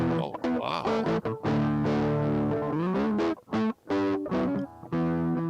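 An electric guitar plays through a 1976 Fender Super Reverb amp with four 10-inch speakers, sustained distorted notes and bending tones with effects and reverb, loud and continuous with brief gaps.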